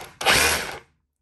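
A Ryobi 18V cordless drill with a 1.5 Ah battery spins up in one short burst under a second, whirring loudly and close, then stops into silence.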